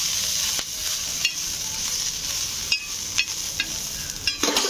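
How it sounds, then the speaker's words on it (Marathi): Green chilies roasting in a pan over a low flame, a steady close sizzle with occasional stirring taps and scrapes, louder clatter near the end. "जोपर्यंत मिरच्या भाजताय"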